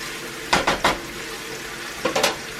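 Thin-sliced Steak-Umm beef frying in a hot skillet: a low, steady sizzle under two short clusters of sharp scraping and clinking as the meat is stirred and broken up.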